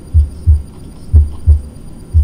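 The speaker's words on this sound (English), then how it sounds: "We can hear the heartbeat." Slow, deep heartbeat thuds from the video game Inside: Before Birth, five low throbbing pulses over a faint steady hum with no talking.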